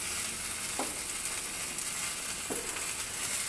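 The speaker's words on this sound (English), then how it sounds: "Now we're gonna just slide in our tomatoes." Tomatoes fry in a pan with a constant, hissing sizzle, and two soft knocks sound as the pan shifts.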